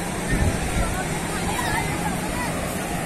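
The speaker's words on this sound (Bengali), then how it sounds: "সমুদ্রের শুধু গর্জনটা শুনুন" Sea surf roars in a steady, loud wash on the long beach at Cox's Bazar, with faint crowd babble mixed into the constant noise of the waves.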